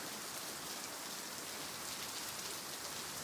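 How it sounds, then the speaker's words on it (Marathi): Steady rain falls without pause, a dense, even wash of noise that stays constant throughout, fairly quiet and with no voices. "किती पाऊस पडतो"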